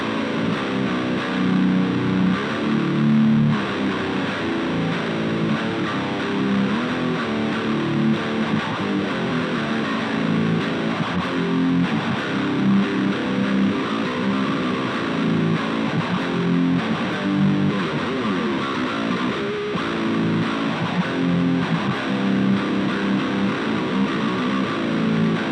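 A small guitar amplifier, the Black Hole, played with heavy distortion, giving a dense, saturated and steady guitar tone that runs without a break for the whole stretch, loud and alone with no talking.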